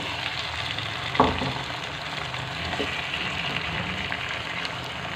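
Chicken frying in a masala of tomato and ginger-garlic paste, a steady close sizzle with occasional stirring scrapes and one sharp knock early on, no voices.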